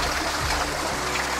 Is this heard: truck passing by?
no